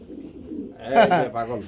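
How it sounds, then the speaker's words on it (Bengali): Pigeons kept in a large flock at a market coo nearby in a short low throaty burst, while someone talks over them. "এই যে দেখেন এই অনেকগুলো কবুতর"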